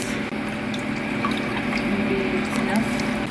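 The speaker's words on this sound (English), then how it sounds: "the next step, which is the chicken water. Yeah. Pour that right on top." Chicken water is poured into a pan over shrimp while cooking Filipino pancit, giving a steady liquid wash and sizzle with a few faint drips throughout.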